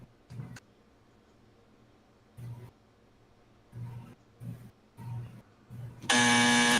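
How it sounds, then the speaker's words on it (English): A harsh electronic game show buzzer blares loudly for a moment at the very end during a Monopoly game show, after quiet stretches broken by several short low murmurs. "I'm sorry, Doug, that was after the buzzer"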